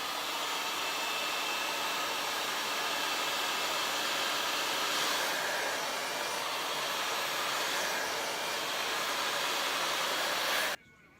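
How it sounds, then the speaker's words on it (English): A hair dryer blows steadily at close range, a loud continuous roar that runs unbroken for several seconds before cutting off abruptly at the end. "Going back with the same blow dryer again."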